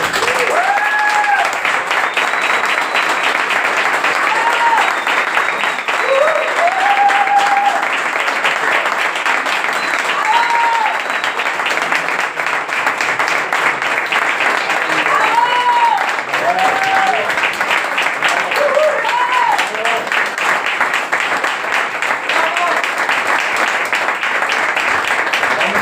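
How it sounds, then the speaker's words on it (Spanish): Sustained audience applause at a Spanish publisher's event honouring author Joaquín Arroyo, a steady dense wash of clapping lasting the whole stretch, with faint voices and shouts rising through it. "Te damos la enhorabuena de la editorial, tu público y un fuerte aplauso para Joaquín Arroyo."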